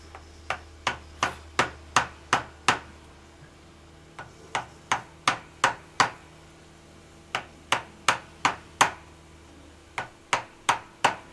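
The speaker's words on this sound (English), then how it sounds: "Love me a clean, sharp chisel." Mallet striking a chisel into wood during Maori carving, crisp knocking blows in quick regular runs of about six to eight strikes with short pauses between, close and clear.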